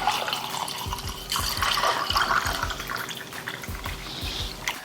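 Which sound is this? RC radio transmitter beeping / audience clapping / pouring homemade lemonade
pouring homemade lemonade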